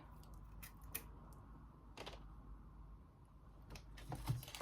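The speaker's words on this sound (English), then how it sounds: "I'm going to cut off all these dead spike" Dead flower spikes of a store-bought Phalaenopsis orchid are cut off with scissors. Several quiet, crisp snips come at irregular intervals, close by, with soft handling noise between them.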